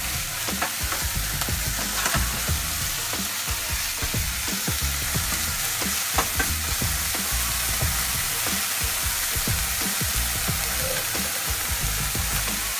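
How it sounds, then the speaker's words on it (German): Curry paste and meat frying in a pan for a low-fat Asian stir-fry, a continuous close sizzle with constant irregular scraping and clacking of a spatula as it is stirred throughout. "brate das dann gemeinsam mit dem Fleisch etwas an und dabei schön rumrühren"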